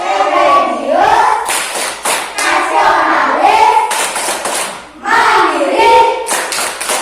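Children clap their hands in rhythm during the Tepuk PPK clapping chant in a classroom. Sharp, close claps come in regular groups, mixed with the children's loud chanted words throughout.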